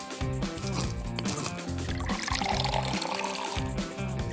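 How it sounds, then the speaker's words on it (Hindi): Water poured onto mixed ingredients, a continuous trickling and splashing liquid pour over a busy background with musical tones throughout. "इंग्रेडिएंट को मिलाएंगे और पानी डालेंगे।"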